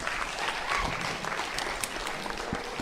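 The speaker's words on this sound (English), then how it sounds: "Let's give them a round of applause." An audience at a talk applauds briefly as volunteers come up on stage, a short burst of steady, fairly close clapping.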